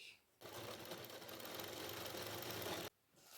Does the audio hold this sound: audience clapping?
no